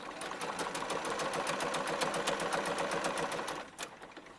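A sewing machine runs a short zigzag seam on a small garment for a ball-jointed doll, its needle ticking in a fast, steady rhythm at close range before stopping, then a couple of final clicks.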